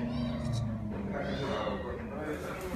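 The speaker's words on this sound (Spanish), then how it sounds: "También están estos otros gatitos." Rescued kittens in a cage at a shelter for animals brought from the Volcán de Fuego eruption area meow repeatedly and close by, partly under a person talking.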